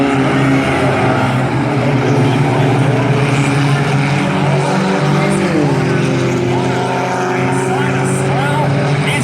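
Four-cylinder class race cars roar through turn one at Valley Raceway in a heat race, several engines droning loudly together with rising and falling pitch, under continuous commentary.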